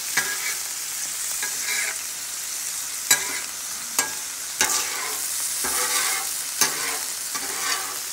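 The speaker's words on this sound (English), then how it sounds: "As I'm browning it up, I'm getting rid of any excess fat that we might get from this hamburger" Hamburger meat sizzles steadily while browning in a pan, with sharp scraping clicks of a utensil stirring and pushing it around every second or so, fairly close and without talk.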